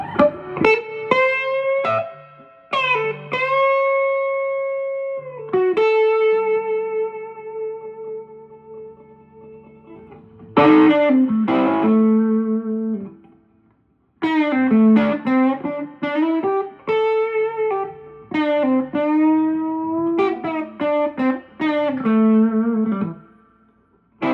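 Electric guitar chords and single-note runs ringing out through a 1967 Guild Thunderbird amp's 8-inch speaker, with a wet, splashy reverb tail on each phrase.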